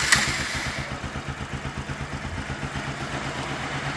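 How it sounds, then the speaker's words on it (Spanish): A Pulsar 200 NS motorcycle engine fires up after an oil change, a brief start burst settling into a steady, rhythmic mid-pitched idle with a regular pulsing chug, close by with no talking. "vamos a prender la motocicleta"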